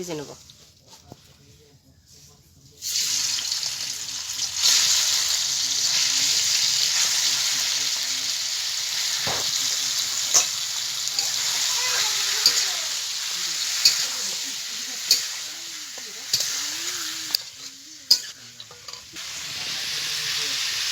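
Chicken meat sizzles steadily in hot oil with salt and turmeric, a continuous bright frying hiss after a quiet start, broken by occasional stirring clatters, while a person talks over it.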